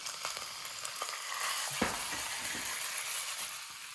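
Diced mutton fries in hot ghee in a pan with a steady, fine sizzle and crackle, broken by a few sharper pops and stirring scrapes, close up and moderately quiet.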